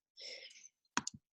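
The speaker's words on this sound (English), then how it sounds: "Oh, I'm typing in here." A few quick keyboard clicks, three close taps in rapid succession, follow a soft breathy exhale at a computer desk.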